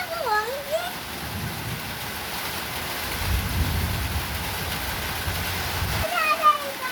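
Heavy rain falls in a garden with thunder rumbling low through the middle of the clip, a steady hiss of downpour beneath faint birdlike chirps.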